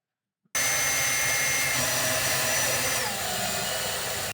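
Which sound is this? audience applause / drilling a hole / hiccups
drilling a hole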